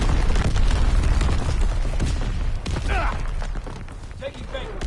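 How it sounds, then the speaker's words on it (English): Enemy artillery shells explode in a WW2 video game: heavy booms and rumbling blasts pile up in a dense, continuous barrage, with a voice talking over the chaos. "Incoming enemy artillery."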